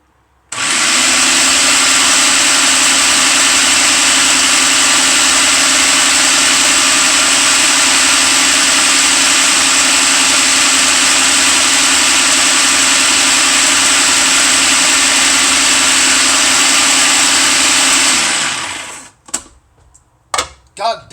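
Kitchen blender blending pesto, a loud steady high-pitched whir running for about eighteen seconds before spinning down, followed by a few knocks.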